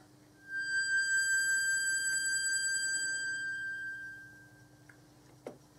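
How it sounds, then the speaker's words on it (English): Sustained electronic tone from the principal oscillator of a Buchla 208 synthesizer, a steady pitched note with bright overtones. It holds for about four seconds over a faint hum, then stops, followed by a brief click. "took the principal oscillator on the 208 and set it here into this channel"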